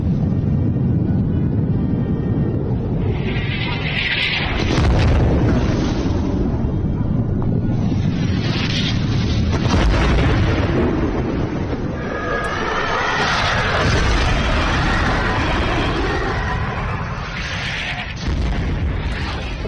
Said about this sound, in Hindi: जोरदार विस्फोट हुआ है, धमाका हुआ है।